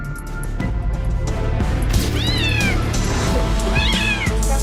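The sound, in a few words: kitten crying loudly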